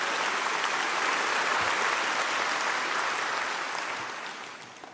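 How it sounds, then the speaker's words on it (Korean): A church congregation gives loud, sustained applause that fills the room evenly and then fades gradually toward the end. "우리 하나님께 큰 박수 올려드립니다."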